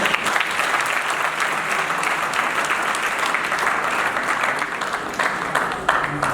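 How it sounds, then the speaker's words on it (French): Steady, dense applause from a crowd at a civil wedding ceremony for a couple, continuous and fairly loud for several seconds with no break. "Il faut applaudir pour eux."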